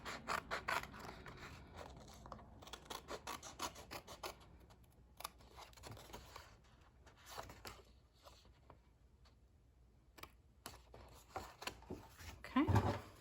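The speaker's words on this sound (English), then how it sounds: "cut to the score line, and then cut on the score line up to that first cut" Scissors snip along score lines in thin card while making a small tissue box, quiet close clipped cuts in short irregular bursts with soft handling rustle between them.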